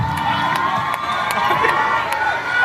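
An outdoor crowd at a public event in Asansol cheers and shouts for a mimicry artist, a dense, continuous roar of voices with children's yells and a few scattered claps.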